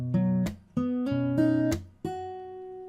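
Fingerstyle acoustic guitar plays a short phrase of a song in several plucked note groups with percussive slaps between them, close and clean with no talking.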